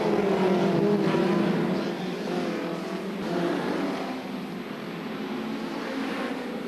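Hot rod race cars at a 1978 world final roar past in a steady, distant-sounding drone, engine notes rising and falling as the pack sweeps by.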